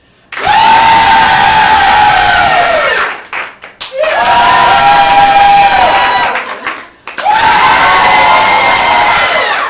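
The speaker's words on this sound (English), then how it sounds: "So clap for whoever you think was the best" Audience at a hip hop dance showcase cheering and clapping to vote for dancers, three loud bursts of shrill, whooping cheers with clapping, each lasting a few seconds and separated by brief lulls.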